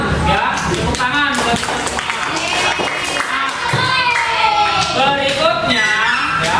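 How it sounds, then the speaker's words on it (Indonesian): Students in a classroom clap their hands together in a sustained round of applause, with children's voices and chatter mixed in throughout. "Tepuk tangan."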